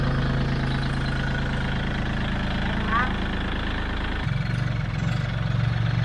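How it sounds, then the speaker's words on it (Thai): A Kubota L4018 tractor engine idles with a steady low rumble, then rises in pitch and loudness as the accelerator is pressed, with outdoor background and speech-like voices mixed in. "การเหยียบคันเร่งเป็นครั้งแรกนะครับ"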